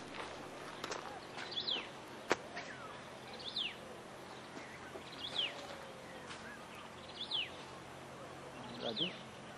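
Birds chirp in quiet outdoor Nainital, a repeated short call sounding about every two seconds at moderate distance over soft ambient hush, with occasional faint knocks.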